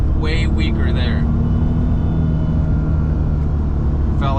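Supercharged V6 of a wrecked, 270,000-mile Mercedes C32 AMG drones loudly and steadily during a full-throttle pull, with heavy low-end engine and road noise throughout and a brief voice near the start.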